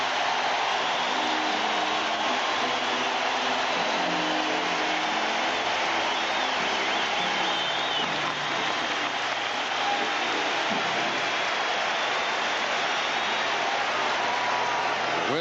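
A Pittsburgh home crowd at Game 5 of the 1990 NLCS between the Reds and Pirates roars as Doug Drabek comes up to bat, a loud, sustained wall of cheering and noise filling the ballpark with no voices on top.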